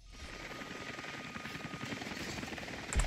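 A large helicopter in Rise of the Tomb Raider produces a continuous, even rotor whir and buzzing drone at steady loudness, heard on its own without speech.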